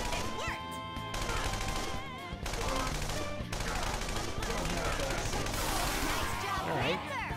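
Repeated gunfire from a character's gun during Persona 5 Royal combat, loud bursts and cracks running throughout over busy game music and effects, with a voice talking over it.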